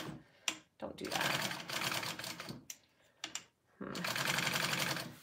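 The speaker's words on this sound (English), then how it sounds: "My machine's making a weird clicking noise." A sewing machine with a fault makes a weird clicking noise, running in stitching bursts with brief pauses and a rapid mechanical rattle, up close and fairly quiet.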